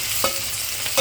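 Onions fry with ginger garlic paste for a cauliflower curry, giving a steady close sizzle in the pan that is broken by two short scraping stirs.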